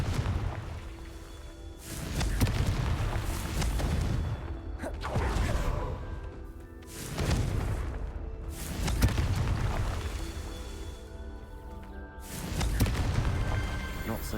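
Confringo blasting spells go off in Hogwarts Legacy, with five or six loud whooshing bursts spaced a couple of seconds apart, each swelling and fading.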